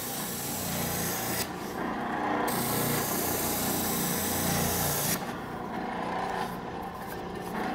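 Spindle sander running steadily while wood is pressed against the spinning drum, a constant loud whirring rasp with shifts in tone as the piece is moved along the spindle.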